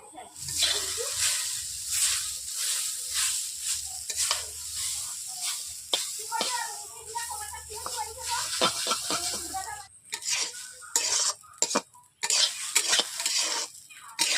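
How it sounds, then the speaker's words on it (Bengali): Egg chowmein is stir-fried in a wok with a continuous close sizzle broken by repeated scraping and clanking of a spatula against metal, getting choppier toward the end. "চাউমিনটা ভাজা হয়ে গেছে।"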